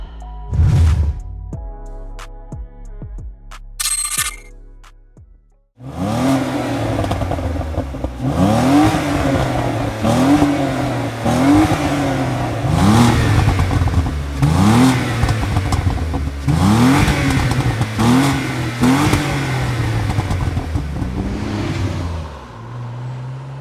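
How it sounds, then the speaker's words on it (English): A Renault Clio V6 engine pulls hard through repeated rising revs and gear changes, a loud, close, throaty drone surging and dropping in a steady rhythm after a brief quieter opening with faint tones. "So as the name of the car suggests, it does have a V6 engine"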